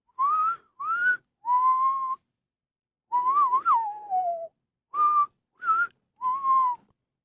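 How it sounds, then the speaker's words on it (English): A person whistles a short tune of seven distinct notes with brief pauses, one longer wavering phrase in the middle, heard alone and close. "Take it to put yourself on radio to whistle to make yourself realize that you kind of suck ass at whistling"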